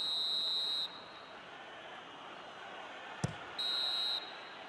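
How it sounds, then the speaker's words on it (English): A referee's whistle sounds the half-time break in a football video game. It gives two shrill, steady blasts, a long one and then a shorter one after a pause, over a low crowd murmur and with no talk. "And the half-time whistle goes."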